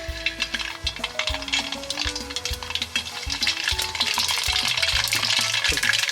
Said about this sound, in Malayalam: എണ്ണ ചൂടായിട്ടുണ്ട്. നമുക്ക് ഇതിനകത്തേക്ക് കടുകൊന്ന് പൊട്ടിച്ചെടുക്കാം.